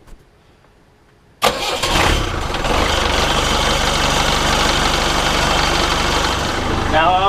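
After a quiet moment, a sailboat's engine cranks and roars to life, then settles into a loud, steady idling rumble.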